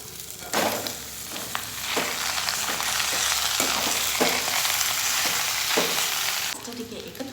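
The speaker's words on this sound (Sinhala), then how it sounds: "එහෙනම් අපි අපේ හම්බගත්ත පස්ටා ටික මේ fry වෙච්ච සොසේජස් එකට එකතු කරගමු" Cooked pasta tumbled into a pan of frying sausages, giving a loud, steady sizzle with repeated stirring scrapes and clatters throughout, no talking.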